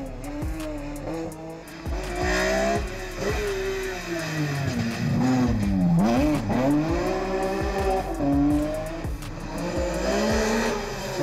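A BMW 1 Series race car engine revving to 12,000 RPM wails loudly, its pitch sweeping up and down through gear changes with tire squeal, the sound echoing off surrounding walls.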